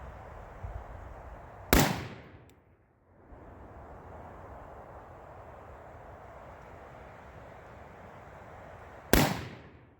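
Two sharp, loud rifle reports from a DDM4v7 ring out at an outdoor range about seven seconds apart, each followed by a brief echo over a steady low background rumble.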